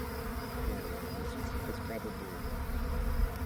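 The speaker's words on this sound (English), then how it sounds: "bee swarm in your orchard" A swarm of honey bees buzzing in an orchard, a dense, continuous drone of many wings holding steady throughout, with a brief spoken remark partway through.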